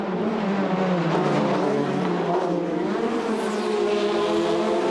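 Formula Renault Eurocup race cars howl past on the Pau street circuit, a dense, continuous engine roar with shifting pitch as several cars pass close by, loud and sustained with no talk.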